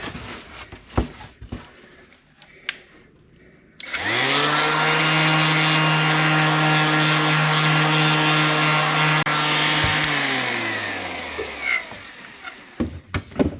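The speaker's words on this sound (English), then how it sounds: "So we will grab the electric sander and have at it again right in here." An electric sander works over wood during varnish preparation, starting abruptly and holding a loud, steady whine for about six seconds before spinning down, with scattered knocks and handling noises before and after.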